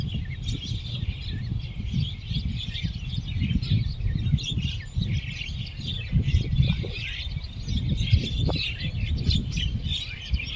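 A flock of common mynas gathers over a freshly harvested rice field on coastal farmland, some perched along power lines. Dense, overlapping chirps and calls come from many birds at once over a low rumbling background, continuous and moderately close.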